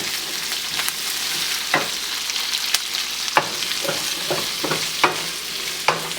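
Onions sizzle in a hot pan on medium-high heat while a utensil stirs them, a steady frying hiss broken by sharp scraping clacks at irregular intervals, close up and without talk.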